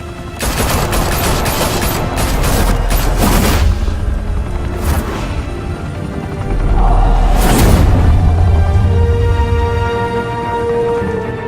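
Gunfire and explosions in a Batman video game, loud rapid bursts of shots with heavy booming impacts in two main waves, close and dense, no talking.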